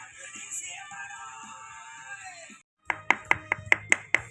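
A knife chops duck meat on a board for Thai duck larb with six sharp, evenly spaced strikes, close and crisp, after a softer stretch of kitchen background.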